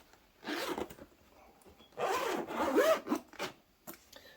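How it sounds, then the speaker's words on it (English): A zipper runs along a lithium battery frame bag in several quick strokes, with short bursts separated by pauses, close and crisp in a quiet room. "zip that back up"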